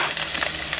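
Italian sausage and half a medium onion brown in a soup pot, giving a brief, even frying sizzle up close.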